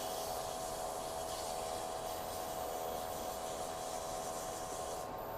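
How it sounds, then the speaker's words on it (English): Acrylester pen blank being sanded with 400 grit Norton sandpaper on a lathe, a continuous steady rubbing hiss over a constant motor drone, close and unbroken. "We'll go to a 400 grit. This is our Norton papers."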